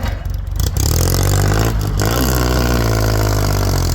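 Used 2011 Kubota L3608DT three-cylinder four-wheel-drive tractor engine revving up from a clattery start into a loud, steady high-rpm drone with a strong low hum, close by and without talk.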